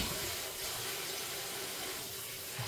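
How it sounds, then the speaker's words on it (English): Running tap water pours steadily into a kitchen sink while hands are washed, a continuous close hiss of water with slight splashing changes as the hands move under the stream, no talking over it. "let me wash my hands. Let me wash my hands good."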